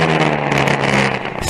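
Historic Formula Ford 2000 race cars roar loudly at Brands Hatch, two engines running wheel to wheel with a steady, close, buzzing drone.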